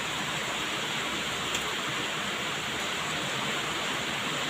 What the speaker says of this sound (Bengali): এখন হচ্ছে বৃষ্টি হচ্ছে, প্রচুর আকারের বৃষ্টি।